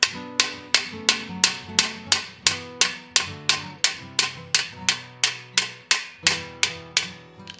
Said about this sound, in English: and then hammer it.